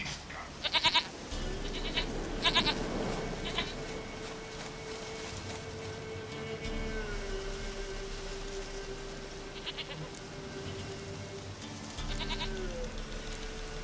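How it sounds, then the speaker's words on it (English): A goat in the video game Witcher 3 gives several short, nasal bleats over a steady ambient hum. Some of the bleats come in quick bursts, and the rest are spread out and quieter. "Goat of mine, dearest, sweetest goat."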